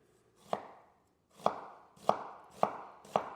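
Knife chopping onion on a cutting board for a homemade Big Mac: five sharp, close thuds spaced about half a second to a second apart, each with a short decaying rustle, no talk.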